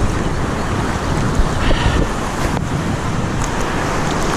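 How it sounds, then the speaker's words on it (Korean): Big ocean waves breaking at a surf spot on Jeju Island, a loud continuous roar of rushing surf mixed with heavy wind buffeting the microphone, close and steady throughout. "파도 엄청나요."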